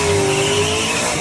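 A white Miata race car at a True Street drag race final makes a steady, loud engine roar with a faint tonal whine running through it, heard without a break.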